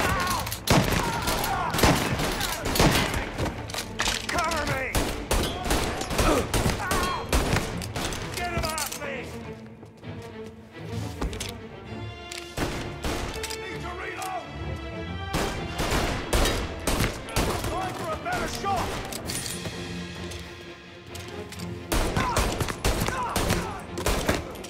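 Heavy gunfire in the video game Mafia Definitive Edition, dense bursts of shots and rapid fire filling most of the stretch, with a brief lull in the middle before shooting resumes, loud and close.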